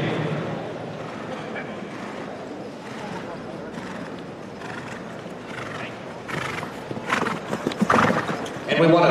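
A young harness stallion shown at a Pennsylvania harness horse sale: hooves clop and the horse whinnies in a busy sale ring, with an announcer's voice over the noise and louder bursts toward the end.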